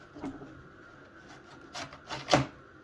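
A plastic scraper drawn in long straight strokes across a freshly waxed snowboard base, giving faint rasping scrapes with a few louder strokes near the end.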